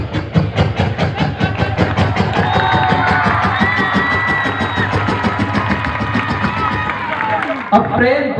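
An audience claps in steady rhythmic unison, loud and close, keeping time with a voice imitating a train's chugging, which carries on over the clapping.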